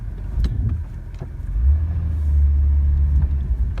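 A 1994 Buick Regal rolls backward in reverse gear, with a rear clunk reported, producing a heavy low rumble that swells and holds steady, with a few dull knocks early on.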